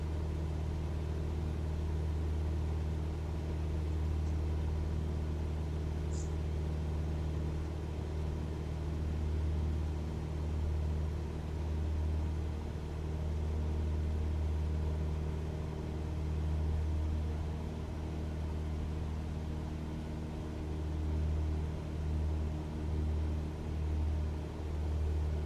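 A light aircraft engine hums in a steady, even drone, throttled back for a cruise climb over Lake Tuscaloosa, with a constant low rumble and no breaks throughout.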